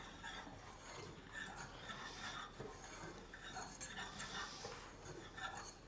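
Keto Chow powder being stirred into heated butter in a pan to make a keto alfredo roux, with a utensil scraping and clinking against the pan in a steady, busy rhythm throughout.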